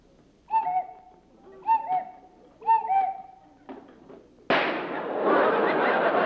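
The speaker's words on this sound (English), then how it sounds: "I'll go check the time on the cuckoo clock." A cuckoo clock calls three times in an even rhythm, each a two-note hoot, followed by a sharp bang and a sudden burst of loud, rushing noise.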